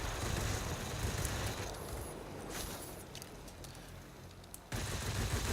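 A Spitfire in the World of Warplanes game fires its cannons and machine guns in sustained rapid bursts, a dense roaring fusillade that barely pauses, loud and close over the engine drone.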